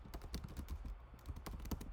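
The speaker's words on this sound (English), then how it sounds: "click on the text tool, click and drag, and we're going to type in" Rapid keystrokes on a computer keyboard while a caption is typed into a photo layout, a steady close patter of clicks running continuously without pause.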